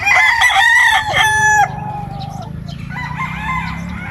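Roosters crow on a farm of local and national breeds, several loud, near calls ringing out one after another in the first second and a half, then a fainter crow answers over a steady low farmyard murmur.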